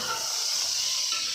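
Spiced chicken pieces for biryani fry in a pan, giving off a steady, close hiss of sizzling oil that runs unbroken through the whole moment with no talking.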